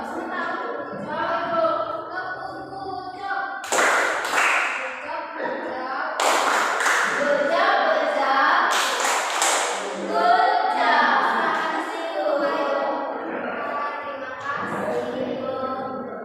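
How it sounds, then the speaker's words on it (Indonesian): A primary school class plays the rhythmic clapping game tepuk jam, crisp group claps landing in short bursts between stretches of children chanting together. "Mari kita tepuk jam."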